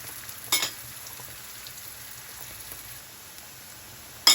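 Button mushrooms and onion frying in a pan make a faint, steady sizzle, with two brief louder clinks or stirs near the start and the end.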